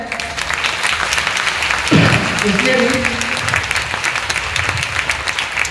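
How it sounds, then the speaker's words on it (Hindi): A live audience at a manifestation retreat in Delhi breaks into loud applause, a dense wash of clapping that carries on under a man's speech over a microphone. "एक बार जोर से ताली हो जाए।"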